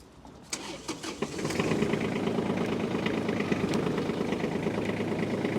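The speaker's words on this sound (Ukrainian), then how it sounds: "Давайте запустимо ще цей тракторець." A small Kubota diesel tractor engine cranks briefly, catches, and settles into a steady, rapid chugging idle close by.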